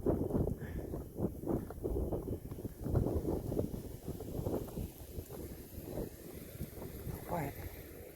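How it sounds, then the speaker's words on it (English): Gusty wind buffets the microphone on an outdoor walk, rumbling in uneven bursts, with a voice speaking briefly under the noise. "now it's getting windy again"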